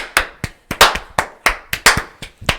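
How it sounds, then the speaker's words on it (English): A slow clap: about nine sharp, close hand claps in a deliberate, fairly even rhythm, each one crisp and distinct with short gaps of silence between them. "Slow clap."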